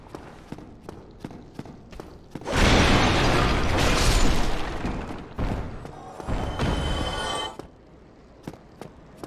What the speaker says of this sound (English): Supersonic barrels. Supersonic barrel explosion.